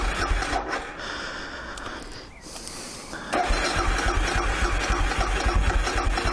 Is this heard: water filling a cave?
no